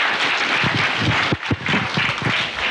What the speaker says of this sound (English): Another round of applause for the principals, please